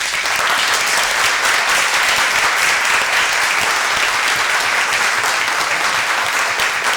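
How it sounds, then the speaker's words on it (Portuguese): A round of applause from a gathered audience, loud dense continuous clapping that holds evenly for about seven seconds with no speech over it. "Eu gostaria de uma salva de palmas para o Denilson."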